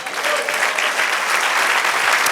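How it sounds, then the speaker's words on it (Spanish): A church congregation claps steadily together during a Spanish-language worship service, with the applause sustained, dense and fairly loud throughout. "Den un aplauso al Señor."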